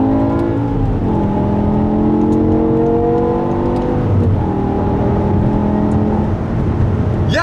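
A 2008 BMW M5 E60 with its V10 engine pulls hard and loud from inside the cabin, rising and shifting through steady layered engine tones for several seconds with no talking.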